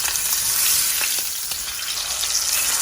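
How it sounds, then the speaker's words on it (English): Steak sizzles loudly and continuously in a frying pan just after being flipped, a dense hissing fry with a few faint scrapes, heard alone without voices. "now we're gonna want to flip the steak and check the other side of it"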